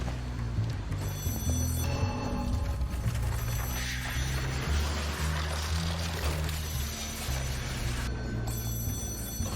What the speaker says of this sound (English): Answer that damn phone.